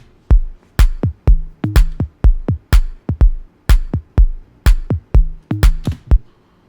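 Layered claps stacked together over punchy kick drums form a steady electronic beat, with sharp, close, loud hits repeating in a regular rhythm and occasional pitched low bass tones between them, with no talking.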